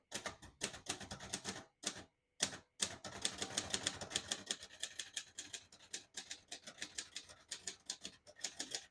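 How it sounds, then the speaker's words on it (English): Quick, uneven keystrokes clatter on a 1955 Royal Quiet De Luxe portable typewriter, with brief pauses between bursts of typing, close and crisp. "Beautiful typing machine."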